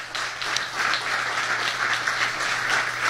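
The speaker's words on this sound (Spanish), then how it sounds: "si le va a dar el aplauso, déselo bien." Audience applause at a church sermon, a dense steady patter of many hands clapping at moderate distance, with no pauses.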